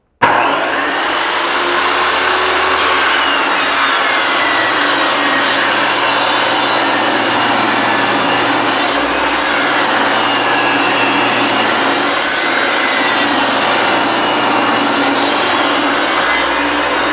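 A table saw rips a D-pine face frame for a paint-grade birch cabinet, a loud continuous whine with cutting noise that holds steady for the whole stretch, no talk over it.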